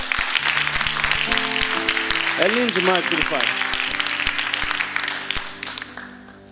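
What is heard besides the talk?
congregation applauding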